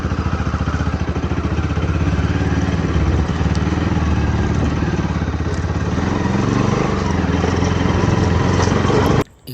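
Motorbike engine running steadily at a loud, close idle with a constant rumbling chug and light mechanical clatter, holding evenly for several seconds before cutting off abruptly at the end.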